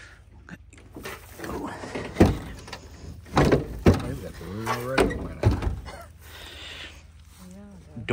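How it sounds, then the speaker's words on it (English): A 1966 Ford Mustang's car door with worn hinges is swung and shut, giving several sharp thunks, creaks and clunks up close, mixed with someone talking in between. "Door hinges need replaced."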